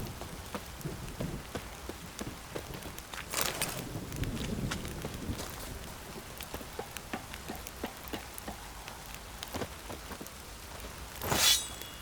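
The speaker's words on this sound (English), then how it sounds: "Oh, it's drizzling." Rain in The Witcher 3 video game falls as a steady patter of drops on surfaces, with a brief louder rush partway through and another burst near the end, with no talking.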